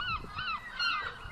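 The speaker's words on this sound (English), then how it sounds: "Those birds are getting aggressive." Geese honking aggressively outdoors by the ocean, a run of harsh, repeated calls in overlapping bursts, fairly close, with a low wind-like rumble beneath.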